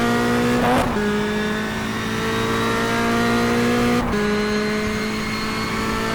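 A race car engine in rFactor 2 drops down to third gear for a left-hand corner, its steady loud drone broken by two quick blips as the revs fall and the pitch resets, with no talk over it.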